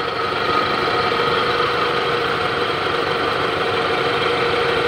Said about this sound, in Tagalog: check natin itong maingay sa makina ng Nissan Navara